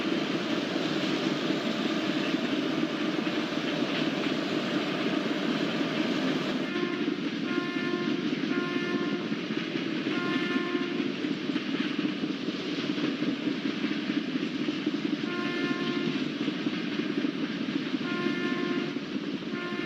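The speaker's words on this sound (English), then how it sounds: "Enjoy the beautiful sound of brake applying," A train hauled by a WAG7 electric locomotive rumbles steadily along the tracks as its brakes apply approaching Gangai Kondam station, high squealing tones ringing out repeatedly over the continuous rolling noise.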